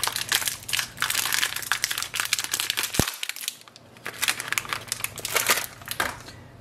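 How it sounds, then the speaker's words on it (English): New ink cartridges for an HP Envy Inspire 7955e printer are pulled from their plastic packaging in bursts of close crinkling and rustling, with one sharp snap partway through. "So take the new ink cartridges out of the packaging."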